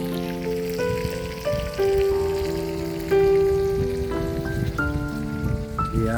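Heavy rain pours steadily at a camping and fishing spot, a constant close hiss that lasts the whole time beneath a layer of musical tones.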